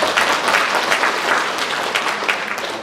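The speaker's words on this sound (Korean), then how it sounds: "우리 축하 박수 한번 주시죠" Church congregation applause ringing out loud and continuous, a dense wash of many hands clapping together with no speech over it.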